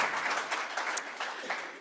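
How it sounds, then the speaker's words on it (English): Short burst of audience applause in a room at a high-speed rail panel discussion, moderately loud and fading slightly toward the end. "So I think, yes, give a round of applause."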